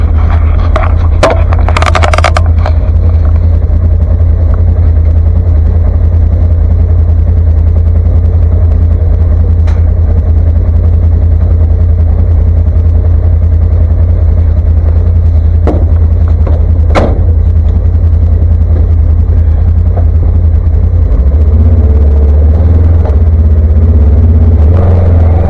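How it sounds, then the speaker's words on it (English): A four-wheel-drive vehicle creeping around a snowy yard in limp mode, with a loud, steady low engine rumble throughout, a few knocks and clunks near the start, and a drop in engine note toward the end. "I'm going to drive it around here the yard in limp mode just to see if I can get the code to blow again."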